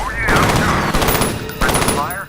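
Rapid machine-gun bursts crackle loudly and close in the shooter F.E.A.R., with two dense volleys broken by a brief pause.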